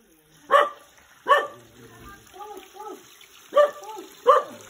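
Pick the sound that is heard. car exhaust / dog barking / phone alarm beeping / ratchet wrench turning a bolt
dog barking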